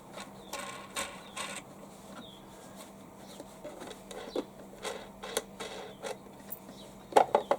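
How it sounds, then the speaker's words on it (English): The air filter cover on a HY3200SEI generator being undone by hand: a series of faint plastic clicks, snaps and creaks, sparse and close, with a few sharper clacks near the end. "So I'm going to undo the air filter cover."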